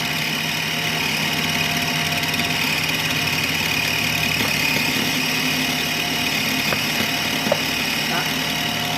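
A Compact Cook Pro food processor runs at speed 8 chopping strawberries for strawberry ice cream, a steady loud motor whir with faint knocks from the fruit hitting the blade, unbroken for nine seconds.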